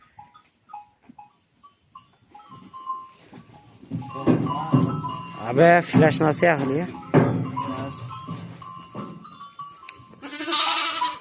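Goats and sheep on a farm bleat in short calls, some close and loud, mixed with lambs, while several people talk and laugh over the animals.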